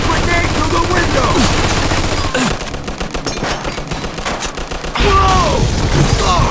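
Rapid machine gun bursts from a war video game rattle loudly in repeated volleys, with a brief quieter stretch of scattered shots before another heavy burst, mixed with game effects.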